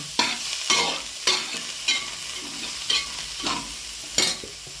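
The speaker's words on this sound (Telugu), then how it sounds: "ఇవన్నీ కొంచెం ఫ్రై కావాలి" Mint, onions and fenugreek leaves frying in a pan, with steady sizzling and regular scraping stirs recurring about every half second to second, close and clear with no talk.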